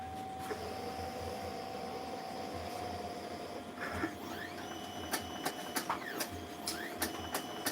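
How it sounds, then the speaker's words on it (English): A Roland BN20 printer printing a batch of decals runs with a steady close whir and hum, and short sharp carriage clicks grow more frequent near the end; nobody speaks. "So I'm printing the last two groups of 50s."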